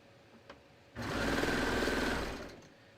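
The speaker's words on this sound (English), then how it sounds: "I'm going to just get that lined up right against the knife, and I'm going to start serging" A serger stitches a fabric seam, trimming the edge with its knife as it sews, starting abruptly in a fast, steady mechanical whir for about a second and a half before slowing to a stop.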